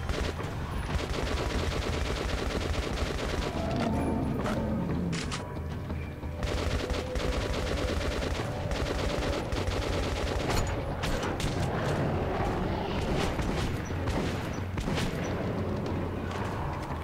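Rapid, repeated bursts from the Shambler, a close-range gun in the game Metro Last Light, crack loudly and close, with dense volleys of shots and booms running almost continuously.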